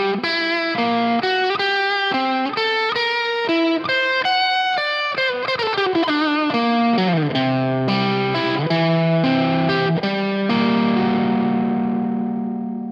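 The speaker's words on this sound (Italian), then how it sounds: "funziona esclusivamente il pickup al ponte senza il body sensor e ho registrato una sonorità molto simile a quello che ricorda un po' la sigla dei Simpson" A Taylor T5z Pro electric guitar plays through the bridge pickup alone with a distorted tone, a clear melodic line of picked notes and chords, loud and close, with the last chord ringing out.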